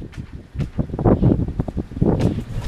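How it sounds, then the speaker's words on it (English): Strong wind gusting outdoors on a cold April day, buffeting the microphone in loud, uneven bursts of low rumble, close and with no talk. "So windy."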